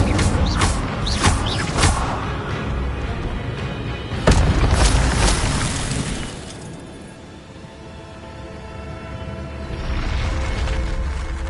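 Fiery spell effect in a Harry Potter video game, a deep rumbling boom with crackling bursts and a sharp burst in the middle, then a rolling roar that fades and swells again.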